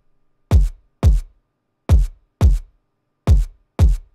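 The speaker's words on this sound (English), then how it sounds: "together, that kick is gonna sound like this" A drum and bass kick drum built in Ableton and Serum with parallel processing thumps six times in a syncopated pattern, each hit punchy, deep and short with a sharp click attack, alone with no talk.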